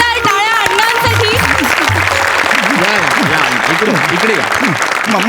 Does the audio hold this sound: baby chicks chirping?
no